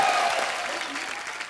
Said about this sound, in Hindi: सैमी के लिए जोरदार तालियां।